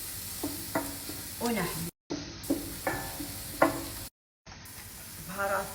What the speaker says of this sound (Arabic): شوفوا الحين أنا قاعدة أحمس البصل، وطبعا حط زيت غليل